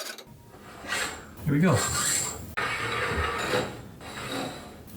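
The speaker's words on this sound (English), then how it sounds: "I can't get my little bearing across, so what I'm gonna do is try to file it a little bit." A metal file rasps back and forth against a garage door spring bearing in a few strong strokes, close by, and a voice speaks briefly at the start.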